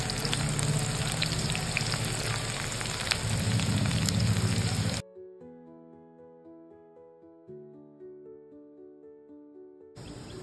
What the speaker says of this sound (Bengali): কড়াইতে তেল গরম হয়ে গেছে, আমি পেঁয়াজগুলো দিয়ে নিচ্ছি